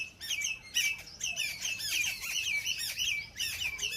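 A flock of birds squawks and chirps noisily at a farmhouse, dense overlapping harsh calls that continue without a break, fairly close.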